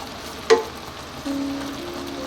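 Chicken pieces frying in a covered pan for sweet-savory Filipino hamonado give a short clatter as one is flipped, then a steady, moderate sizzle continues close by.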